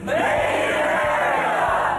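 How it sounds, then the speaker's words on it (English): A packed town hall crowd in Vernon, Vermont lets out a loud, sustained cheer, a dense roar of many voices lasting about two seconds. "Vernon, Vermont, that town hall cheer."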